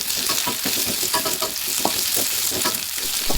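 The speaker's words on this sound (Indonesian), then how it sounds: "Tumis semua bahan tadi hingga layu" Spices, carrots and long beans sauté in a hot pan with a steady close sizzle, while the utensil scrapes and stirs in an irregular rhythm throughout.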